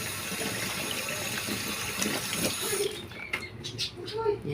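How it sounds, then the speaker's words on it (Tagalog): Tap water running into a sink while hands are washed, a steady soft rush that thins and breaks up near the end, fairly faint. "Yan, hugasan natin ang kamay ko."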